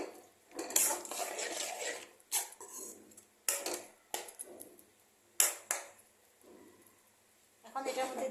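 A spoon stirring chana dal with turmeric, chili powder and cumin powder in a pot, scraping and clinking against the metal in several separate bursts with pauses between them.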